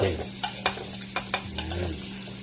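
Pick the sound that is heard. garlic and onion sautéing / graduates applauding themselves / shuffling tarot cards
garlic and onion sautéing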